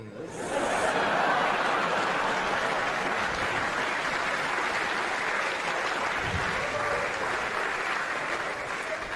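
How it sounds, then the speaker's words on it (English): An audience claps steadily for several seconds, dense sustained applause with a few chuckles mixed in. "I want you to think about why you're clapping."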